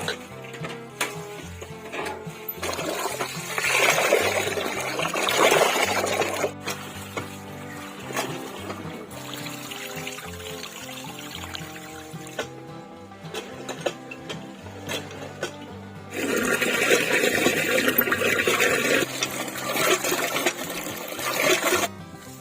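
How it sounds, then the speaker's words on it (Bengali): A cooking pot is scrubbed and rice is rinsed with water, producing splashing, sloshing bursts and clinks of metal that come and go. The sounds are close and moderately loud, with no talk. "ডেস্কিটা ভালো করে ধুয়ে জলটা নিয়ে আসবো, আর চালটাও ওখান থেকেই ধুয়ে নিয়ে আসবো"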